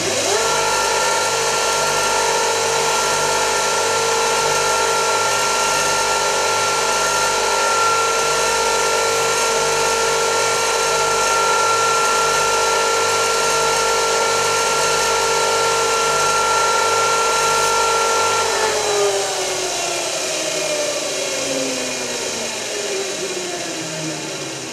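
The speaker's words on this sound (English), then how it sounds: "Just going to show you how to grind this fuller up here." A blacksmith's fuller is ground on a bench grinder, a steady loud motor whine with grinding rasp that runs continuously, then the tone drops and winds down near the end as the wheel slows.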